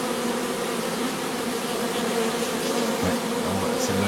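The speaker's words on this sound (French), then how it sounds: "Toutes les abeilles qui vont revenir maintenant, elles vont comprendre que la reine est là, elles vont rentrer là" A recovered honeybee swarm hums around its hive, a loud steady drone of many bees close by, unbroken throughout with no talking.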